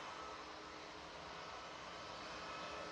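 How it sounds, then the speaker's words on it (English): Lufthansa A380neo departing Manchester Airport for Munich, a steady broadband jet roar holding at constant level throughout with no talk. "going through the shot now is Lufthansa A380 Neo going off to Munich"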